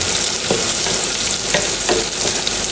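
Onions sautéing until translucent in a pan, a steady loud sizzle with faint scraping stirs breaking through at intervals, close and continuous with no talk.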